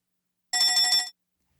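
A stock telephone ring sound effect plays a single half-second trill of bright, rapidly pulsing bell tones, clean and isolated against silence.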